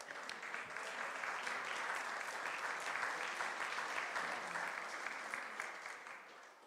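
An audience at a school board of education meeting claps steadily, a soft, fairly distant wash of many hands that swells briefly and then tapers off toward the end.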